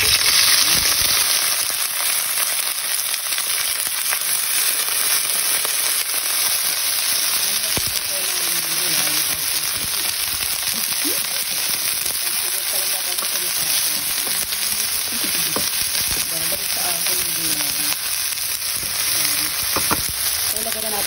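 Chinese spinach stems stir-frying in a hot pan with oyster sauce, a loud, steady sizzle lasting throughout with occasional stirring scrapes and pops, a voice speaking faintly underneath.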